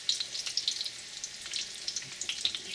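Rolled beef taquitos frying seam side down in a pan of oil, a steady close crackle with dense small pops and spatters and no talk.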